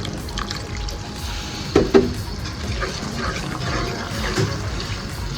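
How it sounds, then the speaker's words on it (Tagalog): A small amount of water is poured into thick oyster sauce while cooking fern (pako) in a provincial kitchen, giving a soft, low trickle with a couple of brief splashes near the start. "Kapag sobrang lapot ng ating oyster sauce, lagyan po natin ng konting tubig."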